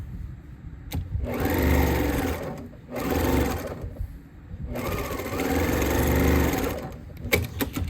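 A sewing machine stitches fabric for a tote bag made from thrift store finds, running in two long steady whirring bursts with short pauses and clicks between, close and clear, no talking.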